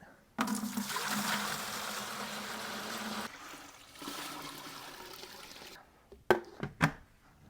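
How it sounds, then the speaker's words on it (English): Whey poured off cheese curds during Munster cheese making, a steady gushing stream of liquid for several seconds that tapers to a trickle, followed by a few clunks and splashes. "we will pour off the whey to the level of the curds"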